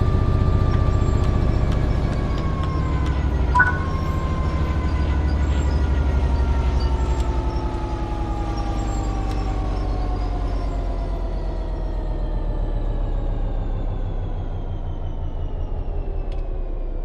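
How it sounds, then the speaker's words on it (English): A train coasting on level track in the Train Sim World 3 game, a steady low rumble of wheels and carriage noise with long, slowly falling tonal whines as it gradually loses speed, with one brief clank partway through. "The train will then coast on level ground, and the train will only slow down very gradually."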